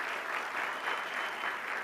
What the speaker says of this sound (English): Could I get a round of applause for that?